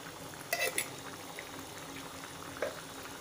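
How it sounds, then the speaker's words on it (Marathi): Homemade ghee being mixed into masale bhaat rice in a pot: a steady low bubbling simmer with a couple of brief spoon clinks against the pot, faint and close. "छान मिक्स करून घेते"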